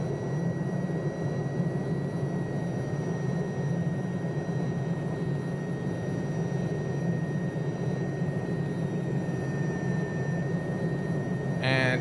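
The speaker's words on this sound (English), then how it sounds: "Let's attempt to put the helicopter in a hover here." An Alouette III helicopter in Microsoft Flight Simulator hovers with a steady, continuous turbine whine and rotor drone, even and sustained from start to end, with no voices over it.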